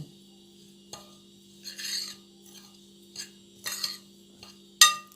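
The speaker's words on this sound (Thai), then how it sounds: "แล้วก็คลุกเคล้าทุกอย่างให้เข้ากัน" A spoon scrapes and rubs around a bowl mixing chili paste with dried pork cracklings, in short, separate bursts, fairly close, with a sharp clink near the end.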